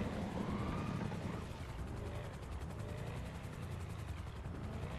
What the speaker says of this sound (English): Right, now let's lose this heli.